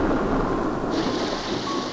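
Thunder rumbling alongside steady rain, a continuous low roar with hiss throughout, close and fairly loud, with no voices.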